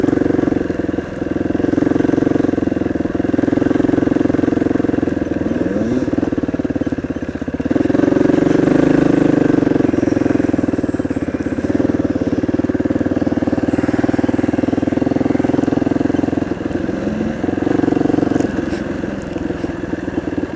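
Motorcycle engine under way on a canyon road through pines with snow at the edges, a strong high-torque bike giving a steady, loud, continuous drone with wind noise and slight swells in pitch, no talking.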